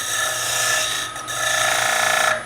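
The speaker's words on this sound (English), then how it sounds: "I'm using the skew as a scraper, simply to shape that." A skew chisel used as a scraper shapes a wooden bowl lid on a spinning lathe, giving a steady, close rasping scrape with a brief break midway before the cut resumes.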